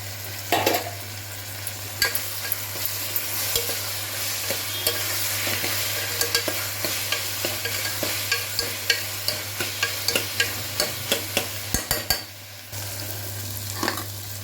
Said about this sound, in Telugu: ఒక 1/2 tea spoon ginger garlic paste వేస్తున్నాను.